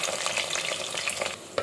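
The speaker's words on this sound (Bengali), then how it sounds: "পেঁয়াজটা একদম বেরেস্তার মতো করে ভেজে নিব" Chopped onions frying in oil with cinnamon, cloves, bay leaves and whole garam masala, giving a steady close sizzle with light stirring scrapes throughout, no voices.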